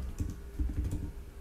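A computer keyboard is typed on up close, with quick, soft clacking keystrokes in a short, uneven burst and no voices.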